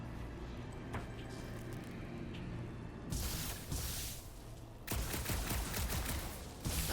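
Sustained gunfire bursts from a shooter in Guardians of the Galaxy aimed at a panel, starting abruptly after a quiet ambient stretch, loud and dense with a brief dip before resuming.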